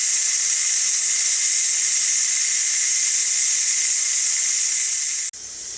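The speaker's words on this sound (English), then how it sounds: "now it's been letting off steam for 5 minutes and 20 seconds right now" Steam from the valve of a Ninja Foodi pressure cooker, a loud continuous close hiss that holds steady and then cuts off abruptly near the end.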